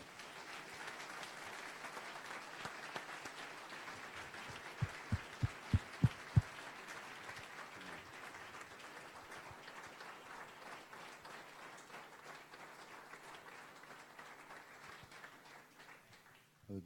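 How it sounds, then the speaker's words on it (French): Conference audience at a closing plenary session applauding steadily for the whole stretch, fairly quiet and distant, with a few low thumps partway through and the clapping easing toward the end. "de grands applaudissements pour Laure et pour tous les gestionnaires d'outre-mer"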